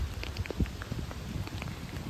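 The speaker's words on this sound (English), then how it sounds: "it's raining so much and very windy" Heavy rain pours in a dense, close wash of patter during very windy weather in England, with gusty low rumbles of wind.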